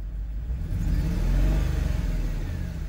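A cheap used car's engine revs up and settles back, with a slight exhaust leak, a steady mid-pitched whir heard close with no talking.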